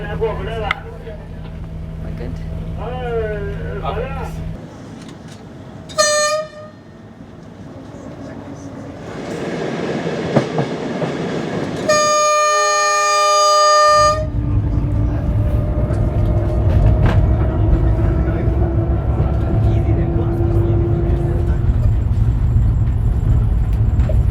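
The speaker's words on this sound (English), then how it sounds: "Looking forward to this train ride." An SGR train near Nairobi National Park rumbles along steadily with mechanical noise and a bright, multi-tone horn blast partway through, loud and close, with people talking at points.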